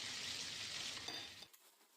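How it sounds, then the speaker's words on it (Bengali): Butter garlic chicken breast frying in a pan, a soft steady sizzle with a faint clink before it cuts off into quiet. "সম্পূর্ণ চিকেনগুলো উল্টিয়ে দিয়ে অপর সাইডটা আমি এইভাবে একটু ভালো করে ফ্রাই করে নিয়ে নিই"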